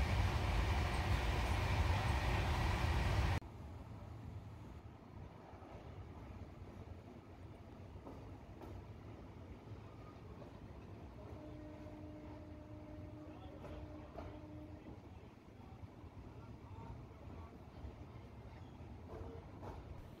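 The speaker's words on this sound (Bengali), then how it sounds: "আমাদের ট্রেন এই মুহূর্তে পশ্চিমবঙ্গ পার করে পাশের রাজ্যে উড়িষ্যাতে প্রবেশ করেছে" Interior rumble of the Duronto Express from Howrah travelling through West Bengal into Odisha, a loud rush for the first few seconds, then a steady low rolling drone with a faint tonal whine midway.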